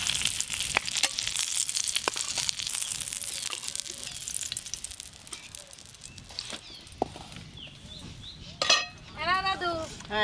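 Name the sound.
frying vegetables in a pan while cooking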